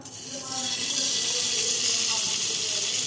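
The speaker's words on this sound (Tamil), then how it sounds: "இப்போ எண்ணெய் நல்லா காஞ்சிருச்சு. இப்போ நம்ம வந்து கட் பண்ணி வச்ச பன்னீரை அதுக்குள்ள போட்டுக்கலாம்." Cut paneer cubes frying in hot oil give a loud, steady bubbling hiss that swells after a brief start and holds close and even, with no voices.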